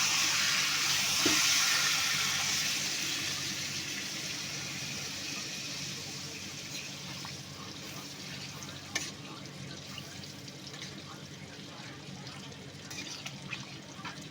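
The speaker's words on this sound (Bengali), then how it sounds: "এবার জলটা দিয়ে দেবো নারকেলের জলটা ছেঁকে নিয়েছি" Coconut water strained from a small ground coconut poured into a pan of potol curry, a steady wet pouring and sizzling wash that fades gently over several seconds, with faint kitchen clatter near the end.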